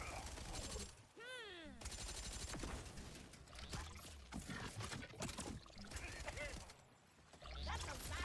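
Rapid bursts of gunfire in a shooter video game ring out in dense, repeated volleys through most of the stretch, loud and layered with busy game effects.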